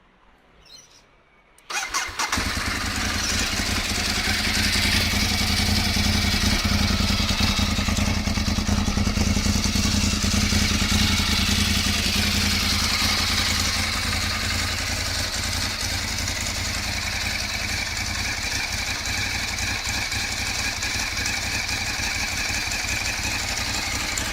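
A 2011 Ducati 848 Evo motorcycle engine cranks and fires after a brief quiet start, then settles into a steady, loud, rough idle that runs close by for over twenty seconds with no talk.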